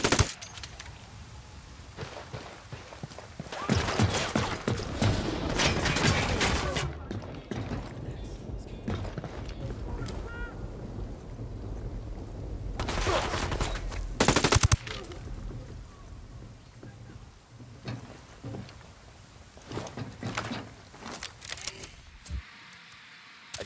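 Gunfire and sniper shots in the Ghost Recon Wildlands shooter, with loud bursts of automatic fire and sharp cracks in clusters separated by quieter stretches of ambient game sound.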